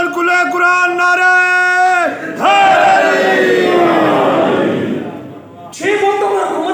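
A crowd chants religious slogans in unison at a Muharram gathering, loud and close, with sustained shouted calls that swell, fade and rise again in a repeated rhythm.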